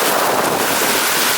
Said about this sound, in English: It's pretty windy actually.